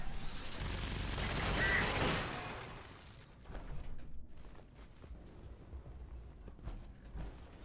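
Gunfire at security bots in Fallout 76: a loud, sustained roar of shooting builds and fades over the first three seconds, then quieter scattered mechanical clatter and small impacts follow.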